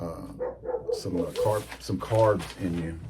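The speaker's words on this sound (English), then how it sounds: "Yes, that's my dog in the backyard." A German Shepherd barking in a backyard, its barks mixed in with a person talking close by, so the dog stays partly under the voice.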